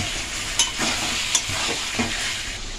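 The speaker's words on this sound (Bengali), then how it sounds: "এই মশলাটা এখন 2 থেকে 3 মিনিট আমি ভেজে নেব ভালোভাবে।" A thick spice paste for Kashmiri chicken kanti sizzles steadily in a hot pan while a spoon stirs and scrapes it, with a few light clinks against the metal.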